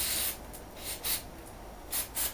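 Carburetor cleaner sprayed into the choke of a 2-cycle carburetor, several short hissing bursts of aerosol up close, separated by quiet gaps.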